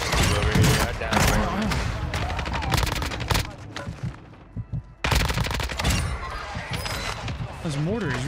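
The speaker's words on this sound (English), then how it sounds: "This mortar is really hurting" Warzone 2 combat with a mortar pounding nearby: dense, dry gunfire and heavy thumps fill most of the stretch, broken by a brief lull before the bursts resume, with a voice talking over the action.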